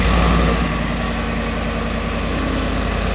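The stock exhaust of a 2023 Ford F-150 with the 5.0 engine idles with a loud, deep, steady rumble, a continuous low throb with no talking over it.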